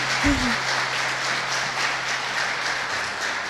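A church congregation at a celebration service applauds, a steady wash of clapping hands filling the hall, with a brief low voice at the very start.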